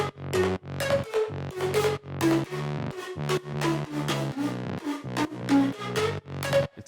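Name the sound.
synth bass from Diva init patch, fart-like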